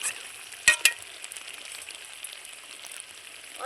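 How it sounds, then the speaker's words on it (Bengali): Water goes into browned, sizzling chicken do pyaza to make gravy: a sharp splash and hiss flare up early, then a quieter, steady sizzle carries on. "এইবার আমি গ্রেভির জন্য জল দিয়ে দেবো"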